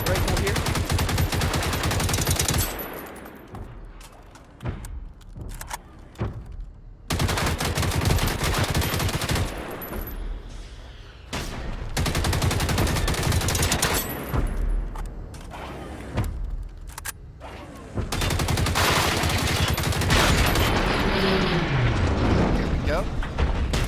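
Assault rifle fire in the Generation Zero video game, loud bursts recurring through the stretch with short gaps between volleys.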